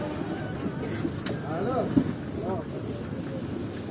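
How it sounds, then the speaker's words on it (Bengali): The Azimganj Kaviguru Express rolls slowly through Lahorpur station with a low rumbling and rattling under wind buffeting the microphone, while someone talks over it throughout. "বন্ধুরা, তোমরা দেখতে পাচ্ছ যে ধীরে ধীরে আমাদের ট্রেন ক্রস করছে লহরপুর রেলওয়ে স্টেশন"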